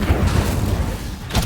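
Incendio fire spell blast in the Hogwarts Legacy video game, a loud deep booming burst followed by a rumbling tail and a second whooshing flare near the end.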